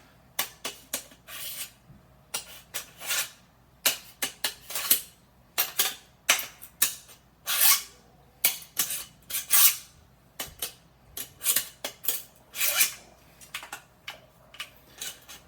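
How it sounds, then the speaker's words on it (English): A kitchen knife is drawn through a handheld knife sharpener for about fifteen seconds, giving close, repeated rasping strokes in irregular bursts with short pauses between them. "Get my knife sharpener and sharpen the knife."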